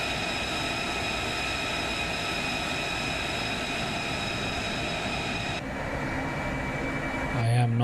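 An F-35B jet taxis in Microsoft Flight Simulator 2024, its engine whining steadily at a high pitch with a constant rumble, then the tone drops abruptly near the end.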